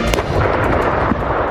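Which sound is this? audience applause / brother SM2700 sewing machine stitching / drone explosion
drone explosion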